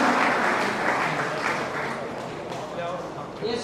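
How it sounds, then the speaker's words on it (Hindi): Audience applause at a Brahmin community talent felicitation ceremony, steady dense clapping from a hall crowd lasting throughout, slightly fading, with murmured voices mixed underneath. "तो तालियों की गड़गड़ाहट होनी चाहिए।"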